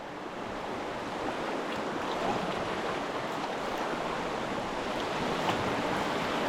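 A canoe moves along a flowing river, with a constant rushing wash of water and wind noise around the boat and no voices.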